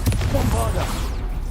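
Confringo and Bombarda spells cast in Hogwarts Legacy, a video game, make a burst of fiery, explosive crackle and rumbling booms that carries on without a break, near and loud, with a voice calling out over it.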